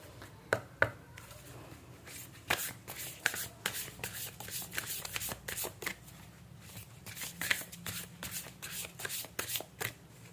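Tarot cards being shuffled by hand, a close, quiet run of soft riffling slaps and flicks in uneven bursts over about ten seconds, with no voice.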